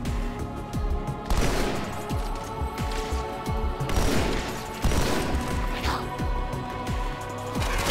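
Battle rifle gunfire in the video game Halo 2, with repeated sharp shot bursts and crashing impacts throughout, layered with other combat noise and voices talking.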